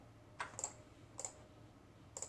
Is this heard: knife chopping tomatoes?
no